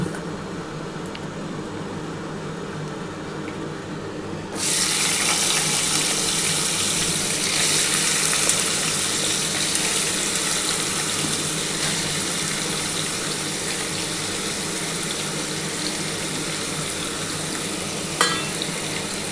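Potatoes go into hot oil left from frying small fish, and the quiet background jumps to a loud, steady sizzle that continues evenly, with a brief clatter near the end.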